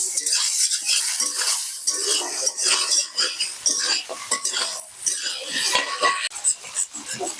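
Prawns fry in a hot pan with loud, continuous spitting sizzle, broken up by scraping and clattering of a utensil against the metal.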